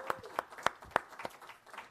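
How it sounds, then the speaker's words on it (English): Audience at the Guernsey Disability Alliance 2018 AGM applauding, heard as sparse, separate claps in an uneven rhythm, moderately close in a quiet room. "I hope that you will all join me in yet another round of applause"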